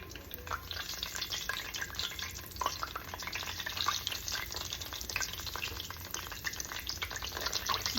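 Steady, busy sizzling and crackling of eggplant rounds frying in hot oil, close and continuous with small pops throughout.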